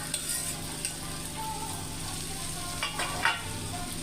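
Capsicum fries and sizzles in a pan over a medium flame, a steady, close hiss with a few soft stirring scrapes near the end and no talking.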